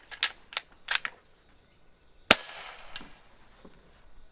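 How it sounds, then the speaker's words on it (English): Suppressed shots from an HP Max airgun: a few short, dry snaps early on, then one sharper crack with a brief fading tail, all close by in a quiet outdoor setting. "We're going to take 3 more shots."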